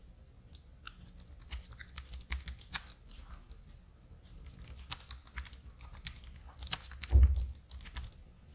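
Irregular bursts of clicking keystrokes on a computer keyboard, close and fairly quiet, with brief pauses between runs of typing.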